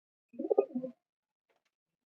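A pigeon cooing nearby, one soft low burbling coo in a quiet setting, followed by silence and a brief low thump at the end.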